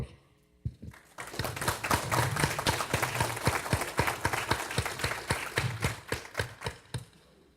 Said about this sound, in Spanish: una calurosa recepción a través del aplauso